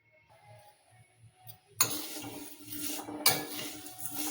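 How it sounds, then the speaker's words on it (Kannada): Metal pans and utensils clank and scrape on a gas stove as vermicelli goes into a little hot oil, with a soft low rhythmic thump underneath and brighter rattling and stirring taking over partway through. "ಈಗ ಶಾವಿಗೆನ ಹುರಿತೀನಿ ರೀ."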